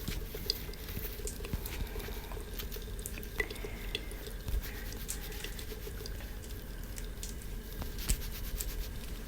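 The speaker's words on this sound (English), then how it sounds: "I'm gonna rinse that out now." Water running and dripping as hair is rinsed at a salon, a steady close patter with small droplets and faint clicks throughout, soft and continuous with no talking.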